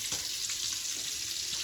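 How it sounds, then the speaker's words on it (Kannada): Water runs steadily from a tap at a campsite, giving an even, faint rushing stream with no voices over it. "ನೀರು ಬರ್ತಿದೆ."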